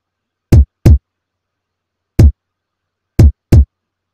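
A boosted old-school kick drum sample fires five times in an uneven pattern, each hit loud, hard and short with a sharp attack, separated by silence.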